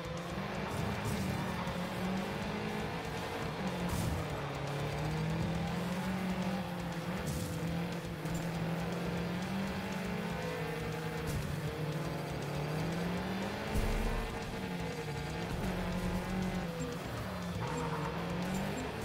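Rally cars racing on a gravel track in the Gravel video game on Xbox One: loud, steady engine drone with revs rising and falling through gear changes, tyre scrabble and occasional knocks, continuous throughout with no speech.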